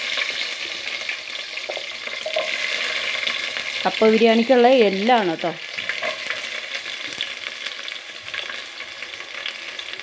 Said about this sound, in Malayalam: നമുക്ക് എണ്ണ ചൂടായിട്ടുണ്ട്. അതിലേക്ക് നമുക്ക് ഉള്ളികളിടാം.